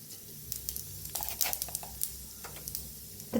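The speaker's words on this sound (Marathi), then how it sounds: "तेल तापलेलं आहे त्याच्यात एक चमचा जिरं टाकायचं आहे" Cumin seeds dropped into hot mustard oil in a kadhai, crackling with sharp pops and spits over a steady low sizzle, with no talking.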